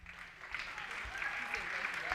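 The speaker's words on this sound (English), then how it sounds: "let's give them a round of applause" Faint applause rises from wedding guests for the ring bearers, a soft, thin patter of clapping with murmuring voices over it.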